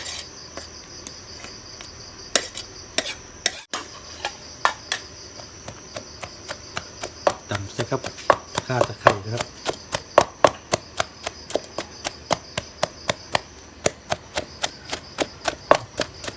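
Garlic is pounded in a mortar for Lao-style jaew bong chili paste, a long run of sharp, evenly spaced thuds with a steady rhythm, close and fairly loud, while a high steady buzz carries on behind.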